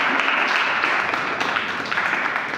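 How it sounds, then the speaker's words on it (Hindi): An audience at a motivational English-speaking lecture claps in a dense, continuous wash of applause that stays fairly loud and even throughout, with no one speaking over it. "तो आपकी ताली तो बनती है"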